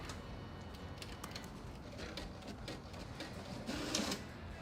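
A printer runs off a page on IK Plus 80 gsm paper, a continuous mechanical clatter of rapid ticks and rollers at moderate distance that swells briefly toward the end, with no voices.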